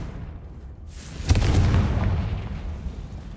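A Confringo blasting spell detonates in Hogwarts Legacy, a single loud booming burst that swells and rumbles before slowly fading into ambient noise.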